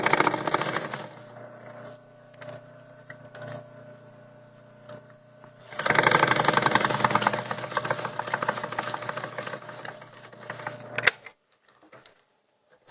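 An electric sewing machine runs a line of stitching close to the edge of a fabric bag, whirring in short bursts and then a longer steady run, fairly near, with no talk.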